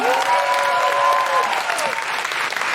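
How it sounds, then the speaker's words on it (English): A live audience at King's Place claps in a full, loud round of applause, with a whoop rising over the dense clapping. "Can we have a huge round of applause for everyone at King's Place?"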